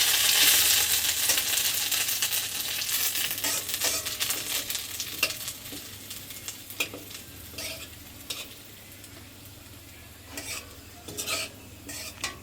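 Panch phoron spices and chopped ginger sizzle steadily in hot oil, a loud continuous frying hiss with scattered clinks and scrapes from stirring, easing slightly as it goes on.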